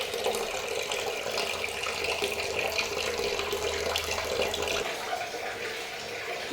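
Water runs steadily from a tap through a heating pipe, producing a continuous broadband rushing and splashing that stays even and fairly close for several seconds with no talk.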